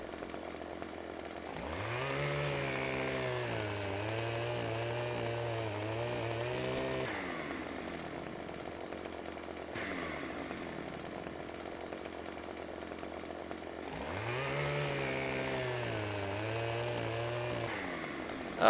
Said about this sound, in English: Get rid of the chainsaw, get rid of both chainsaws there.